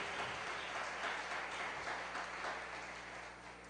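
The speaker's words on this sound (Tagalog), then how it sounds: "Lahat ng mga anak ng Diyos, pumalakpak ng malakas sa ating malapay na." A church congregation at a JMCIM preaching service claps together, a faint, distant wash of steady applause that fades slightly toward the end, with no voices over it.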